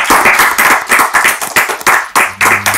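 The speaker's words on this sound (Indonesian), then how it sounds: "Tepuk tangan dulu nih." An audience claps along in a loud, rhythmic burst, with dense hand claps landing in quick repeated pulses, close and full, with a low hum entering near the end.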